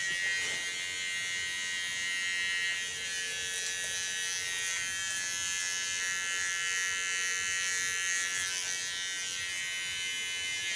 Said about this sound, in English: With my small peel and the clipper I clean the contour line.